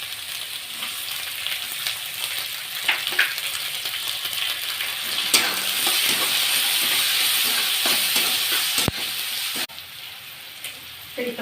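Soaked chana dal and onion sautéing in a hot pan give a steady, close sizzle with occasional stirring scrapes and clicks, holding loud for most of the stretch before dropping off near the end.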